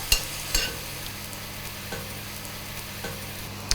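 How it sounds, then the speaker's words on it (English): Carrots sizzle steadily in a hot pan after a splash of lemon is added. Occasional sharp clinks of a utensil stirring cut through the constant frying hiss. "And you can hear that sizzling."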